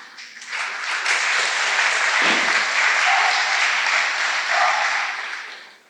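A full audience applauds at the West Pasadena Residents' Association annual meeting, honoring a staff member from Assemblyman Chris Holden's office; dense, steady clapping that swells and holds for several seconds before tapering off.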